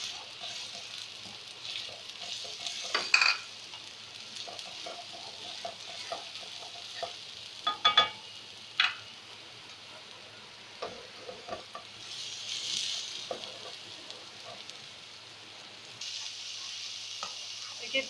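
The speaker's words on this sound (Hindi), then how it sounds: "हम तेल के अंदर भूनेंगे ताकि प्याज का कच्चापन खत्म हो जाए।" Onion paste fries in oil with a soft, continuous sizzle, punctuated by occasional louder stirring scrapes and clicks.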